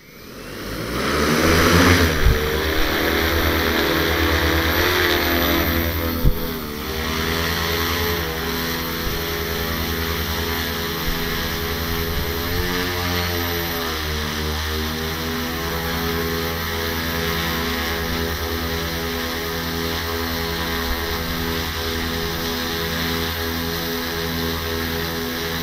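A homemade agricultural pesticide-spraying drone flies with a loud, steady buzzing whine from its rotors, spinning up at the start and holding a continuous hum with small pitch shifts throughout.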